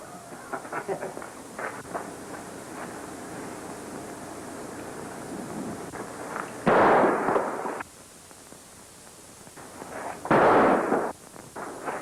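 Two loud, sharp cracks of a gunshot ring out a few seconds apart, each trailing into a short burst of echo over a quiet outdoor background.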